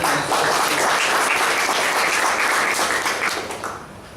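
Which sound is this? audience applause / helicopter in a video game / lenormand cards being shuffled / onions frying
audience applause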